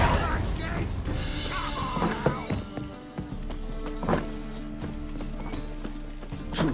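Horse hooves clip-clopping at a steady walking rhythm in The Witcher 3: Wild Hunt, with occasional thuds and ambient game sounds in the background.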